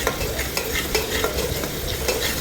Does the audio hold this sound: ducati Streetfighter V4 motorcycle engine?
no